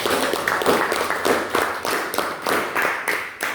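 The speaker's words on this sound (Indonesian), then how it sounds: "Mari kita berikan tepuk tangan yang meriah kepada" A classroom gives a group of students lively applause, a dense close run of many hands clapping in uneven bursts for a few seconds.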